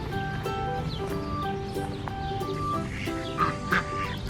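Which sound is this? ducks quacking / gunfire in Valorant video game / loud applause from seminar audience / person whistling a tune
ducks quacking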